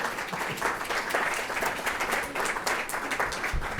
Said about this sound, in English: I'm happy to give a quick round of applause to everyone there.